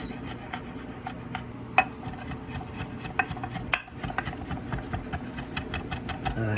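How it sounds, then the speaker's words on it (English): A knife chops garlic finely on a cutting board for fire-roasted salsa, a steady run of quick, close taps and scrapes with a brief pause partway through. "dice this up as finely as we can because we don't want chunks of garlic"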